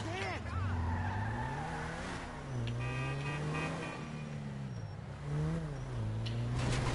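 A car in GTA Online revs and screeches its tires, engine pitch rising and falling through several skidding swerves, with a person talking over it.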